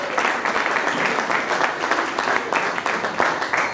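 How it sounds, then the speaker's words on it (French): An audience applauds and cheers to welcome a speaker at a live show, dense, loud clapping sustained throughout with crowd noise mixed in. "des acclamations pour l'accueillir"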